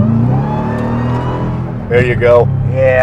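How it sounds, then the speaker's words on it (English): Modified Dodge Durango with a supercharger and Legmaker cold air intake, the engine droning and then surging in bursts of rising whine as it accelerates, with someone speaking briefly over it. "Yeah, it really wakes up the supercharger sound in these cars."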